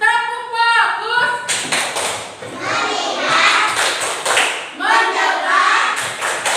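Children in a classroom doing a rhythmic clapping chant, bursts of hand claps and slaps in a patterned beat mixed with their voices, close and fairly loud, after an adult speaks briefly at the start.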